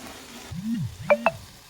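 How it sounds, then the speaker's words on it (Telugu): Green chillies frying in hot oil in a pan, a soft sizzle with a couple of sharp clinks of a spoon against the vessel, close and fairly quiet. "అన్ని పచ్చిమిర్చీలు ఇందులో వేసి ఆయిల్లో జస్ట్ అలా ఫ్రై చేయండి"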